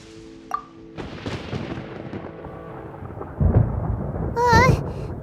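Thunder rolls through a stormy scene in the video game Genshin Impact, a low rumble building and swelling louder toward the end beneath music and game sound effects.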